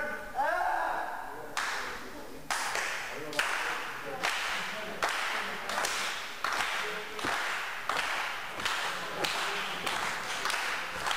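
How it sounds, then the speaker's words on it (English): A large crowd at a VCW wrestling show cheering and clapping for Special K, with rhythmic sharp claps or slaps repeating about once a second and crowd noise underneath. "Crowd, possibly the biggest VCW crowd ever, getting behind Special K."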